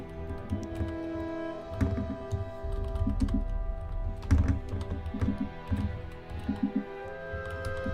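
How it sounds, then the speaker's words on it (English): Keystrokes clatter on a computer keyboard balanced on a TV remote, coming in quick bursts of taps with short pauses and a few heavier thunks, close and alone. "It's hard to type with your keyboard balanced on a TV remote"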